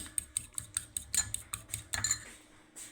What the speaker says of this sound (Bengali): আমি ডিমটাকে একটু ফেটে দেবো হালকা